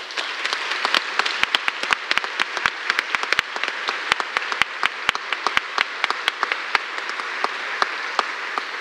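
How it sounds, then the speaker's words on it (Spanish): A theatre audience at the opening of an international anthropology congress gives strong, sustained applause for the volunteers, a dense, even roar of many hands with sharp individual claps standing out throughout. "pido un aplauso muy fuerte para todas"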